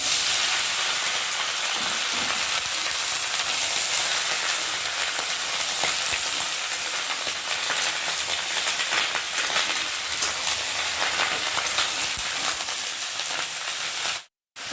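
Cut water lily stems fry with cumin in a hot pan, giving a loud, continuous sizzle like steady rain that holds evenly and then cuts off abruptly near the end.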